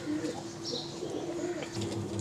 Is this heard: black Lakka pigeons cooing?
yes